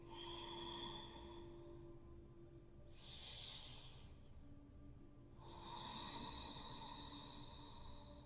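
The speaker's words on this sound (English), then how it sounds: "And using the ocean breathing, Ujjayi breathing," Slow ujjayi ocean breathing during a yoga stretch for tight hips: one long hissing breath through a constricted throat, soft and close, over a faint steady hum with other quiet breath sounds around it.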